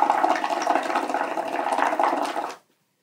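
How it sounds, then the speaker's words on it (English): Bubbles blown through a straw into a cup of liquid make a continuous, fairly loud burbling gurgle for about two and a half seconds, then stop abruptly and leave silence. "how long does it take for me to blow on the straw for the bubbles to rise and come out of the cup"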